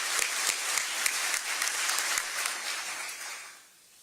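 An audience at a mayor's State of the City address in Birmingham claps steadily for a few seconds, then the applause thins out and fades away.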